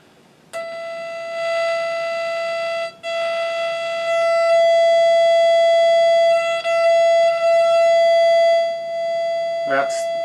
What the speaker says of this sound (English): The LEDs are unbelievably loud.